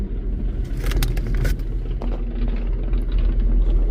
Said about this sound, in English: Car right there on the flat